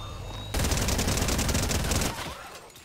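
Video game gun opening up suddenly in a sustained, loud burst of rapid automatic fire, rattling steadily before tapering off at the end.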